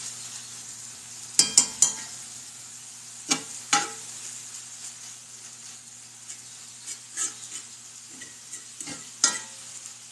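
Meat for a breakfast hash sizzles softly and steadily as it browns in a pan, broken by a handful of sharp spatula scrapes and stirring clatters, with no voices.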